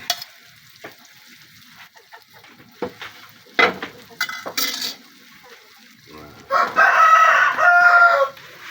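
Pet chickens clucking in scattered bursts, then a loud rooster crow near the end, heard over light kitchen sizzling and clatter.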